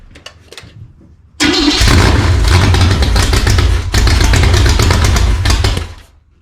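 An engine running rich, with a suspected bad fuel pump, catches abruptly after a quiet moment and roars loud and steady for several seconds before cutting out.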